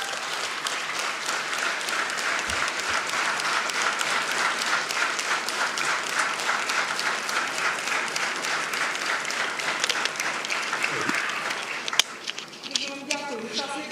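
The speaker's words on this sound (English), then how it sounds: "big round of applause to the guys." Long sustained audience applause honours a military brigade at a veterans forum, steady dense clapping throughout with a few louder claps and voices emerging near the end.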